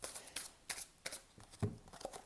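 A tarot deck is shuffled in soft, quick rustling bursts that repeat at an uneven rhythm, fairly quiet and close.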